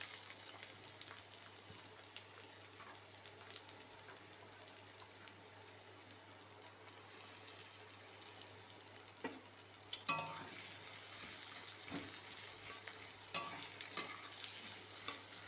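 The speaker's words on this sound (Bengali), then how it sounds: "এবার দিয়ে দেবো কুচনো পেঁয়াজ" Chopped onion frying in hot oil in a kadai, a steady low sizzle with soft stirring scrapes, growing a little louder toward the end.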